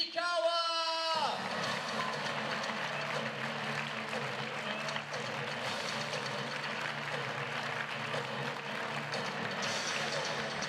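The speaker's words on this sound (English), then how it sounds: "A big round of applause for Kasumi Ishikawa!" An arena crowd at the 2016 ITTF World Tour Swedish Open women's singles table tennis final breaks into sustained loud applause right after a brief amplified voice, and the clapping continues steadily to the end.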